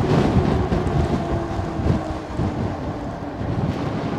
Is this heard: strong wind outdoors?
yes